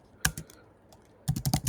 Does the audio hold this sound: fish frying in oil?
no